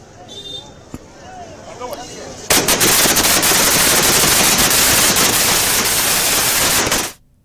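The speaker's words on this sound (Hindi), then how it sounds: "संतों के साथ में आतिशबाजी कर जश्न मनाया" Fireworks set off by a group of saints celebrating an election victory at Hanumangarhi in Ayodhya crackle in a dense, loud, continuous barrage that bursts in suddenly after a few faint pops and then cuts off.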